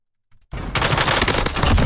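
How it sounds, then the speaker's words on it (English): Sustained automatic gunfire during a Warzone gunfight on Rebirth Island erupts after a brief silence, loud and continuous, with rapid overlapping shots. "Now the gunfight's over with quick, bang."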